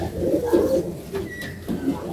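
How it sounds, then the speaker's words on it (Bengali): An Andhra Kalanka pigeon coos nearby in a few low, throaty rolling bursts with short pauses between them, over a light background murmur. "খুব সুন্দর পায়রা আছে"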